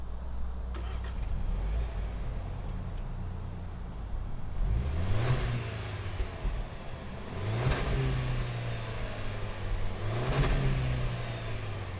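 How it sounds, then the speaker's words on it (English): A 2020 Land Rover Discovery Sport SUV engine starts, then revs three times in spaced bursts, each rising and falling back to a steady idle, heard close by from outside near the exhaust. "fire this one up and see what it sounds like out of those fake exhaust vents"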